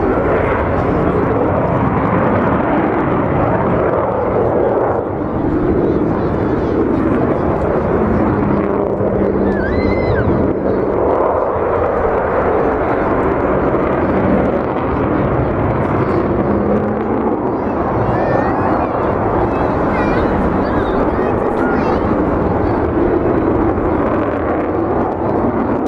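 An Avro Vulcan delta-wing jet flies past at the 2012 Farnborough Airshow with a loud, continuous roar of engine and rumble that fills the whole stretch, and a commentator speaks over it.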